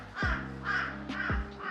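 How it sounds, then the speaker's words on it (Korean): A crow caws four times in a steady, evenly spaced rhythm, harsh and fairly close, with no other sounds around the calls. "까마귀가 날아가네요."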